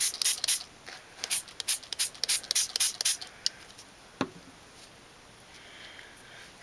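Distress Oxide ink is sprayed in a quick burst of short, sharp hissing spritzes, close and clear against a quiet craft-table background, then a few sparse isolated sprays trail off.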